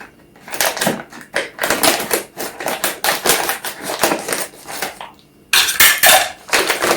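Rapid, irregular crisp snipping and crunching close by as scissors cut nuts, dense for several seconds, then a brief pause before another burst.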